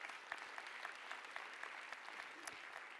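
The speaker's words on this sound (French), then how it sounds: "elle mérite un applaudissement" A conference audience gives a brief round of applause, faint and fairly distant, with individual claps standing out in an even patter.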